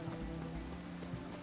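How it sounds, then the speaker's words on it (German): Rain falling in The Witcher 3: Wild Hunt, a steady soft patter of drops on surfaces with a low ambient rumble, heard alone without speech. "Es ist zu feucht, es ist zu feucht. Es regnet."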